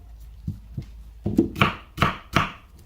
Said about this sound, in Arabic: بحتاج حبة بصل أقطعها بالشكل هذا